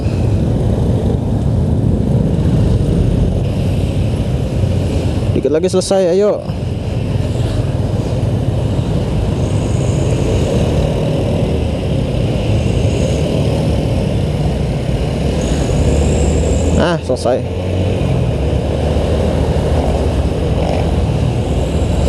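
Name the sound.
Yamaha MX King manual motorcycle riding in traffic jam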